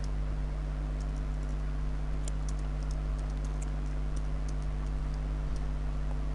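Light typing on a computer keyboard, a scattered patter of faint close keystrokes over a loud, steady low electrical hum, with no talk.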